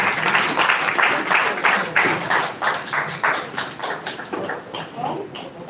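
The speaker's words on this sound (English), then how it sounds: "Please round of applause tonight." A crowd claps in a steady burst of applause, loud at first and gradually thinning out, with no one speaking over it.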